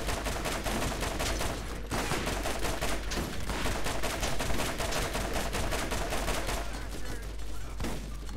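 Enemy gunfire in the shooter Borderlands: a continuous rattle of rapid shots and bursts that keeps going with brief dips, loud, busy and unbroken, mixed with combat noise.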